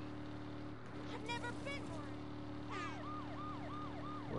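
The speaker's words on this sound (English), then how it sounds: "my lights and sirens blaring." A wailing police-style siren from a Saints Row video game police car rises and falls repeatedly from about the three-second mark, over steady engine hum, with a voice talking briefly beforehand.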